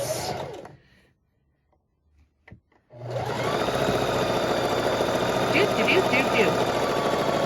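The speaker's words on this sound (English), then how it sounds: "Just try to keep your fabric going straight with your presser foot." Sewing machine stitching fabric for an envelope pillow, a brief buzz fading into near silence with a couple of small knocks, then a steady, loud whirring hum with rhythmic mechanical ticking that runs to the end.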